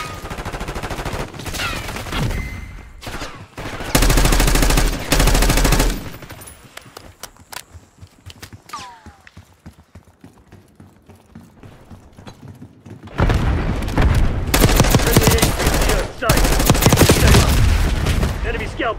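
Bursts of automatic gunfire in the video game Call of Duty Black Ops 6, loud rapid volleys near the start and again in the last few seconds, with quieter mechanical clatter and faint voices between.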